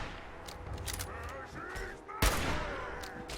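Gunfire in the video game Fallout 4: a quick run of light shots followed by one loud, sharp blast, with game sounds and a faint voice mixed in.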